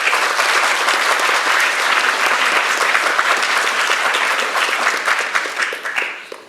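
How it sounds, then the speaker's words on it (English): A large audience at a BSc graduation ceremony applauds continuously, a dense, loud wash of many hands clapping that holds steady and then begins to thin and fade at the end. "Please applaud, because he will have the certificate for both web science and software science"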